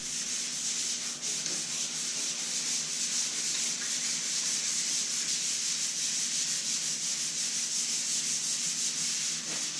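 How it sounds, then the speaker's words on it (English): Hand sanding of primer on the fender of a $200 Mazda Miata project car, a steady continuous rubbing hiss that holds even and close throughout, with no talking. "So while I was out here sanding this all down"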